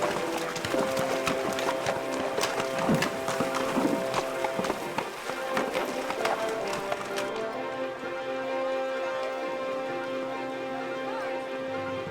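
Horses walk a mountain trail on a guest ranch ride. Their hooves clip-clop in an irregular rhythm, moderately close, with some steady background sound that continues after the hoofbeats ease off.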